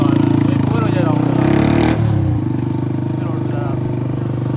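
Honda CG 125 motorcycle engine idling just after an oil change, a steady loud throbbing putter close by with a brief rev swell midway, running continuously throughout.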